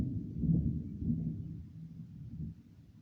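Low thunder rumbling during a thunderstorm, a soft deep roll that swells and fades over a few seconds, fairly faint and distant with no voices.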